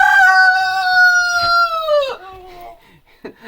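A rooster crows loudly and close by in one long, drawn-out call that falls away at the end, followed by a brief softer cluck, with poultry kept on a diet at home.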